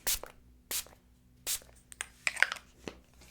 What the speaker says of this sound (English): I'm going to do a little bit more setting spray.